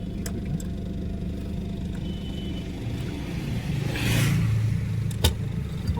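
A car engine rumbles during a driving lesson, idling low before revving up briefly and settling again, with a couple of sharp mechanical clicks.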